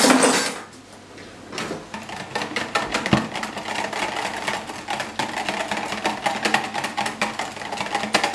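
A spoon stirs soup stock in a pot, giving steady light scraping and clinking against the metal over a faint background hum, with no speech.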